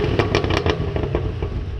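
A 2022 Cadillac CT5-V Blackwing engine rumbles close by while a rapid run of sharp exhaust pops and crackles bursts out, then fades back to a steady burble.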